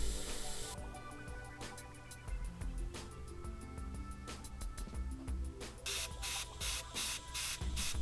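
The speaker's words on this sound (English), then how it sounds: "using a circular stencil we very quickly sprayed the insides in rust base" Airbrush spraying rust base paint through a circular stencil onto the road wheels of a Hobby Boss Leopard VK1602 model tank: close, steady hiss that breaks into a run of short rhythmic bursts near the end, with music underneath.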